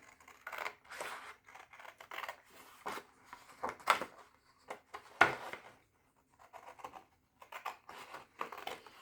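Small scissors cut out a paper shape marked in pencil, giving quiet, close snips and rustling paper in uneven bursts with brief pauses.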